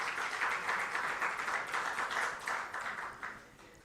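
An audience at an examination results release ceremony gives a round of applause, a steady, moderately distant wash of clapping that holds evenly and then begins to thin.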